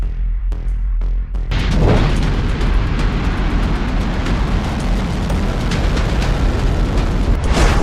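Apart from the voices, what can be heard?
North Korean missile launch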